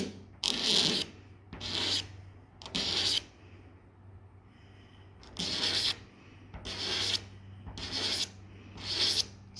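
Wet sanding the clear coat on car paint by hand, with seven rasping strokes in bursts of about a second, separated by short pauses.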